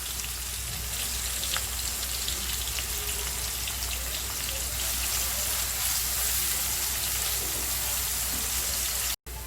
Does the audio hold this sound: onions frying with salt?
yes